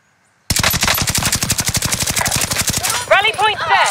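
Rapid machine-gun fire in the Call of Duty Vanguard Warzone video game on Rebirth Island, a loud sustained burst of evenly spaced shots lasting over two seconds, followed by a brief overlapping flurry of further shots.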